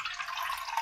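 A faint, steady trickle of water pouring into a cooking pot, a soft continuous splashing with no talking.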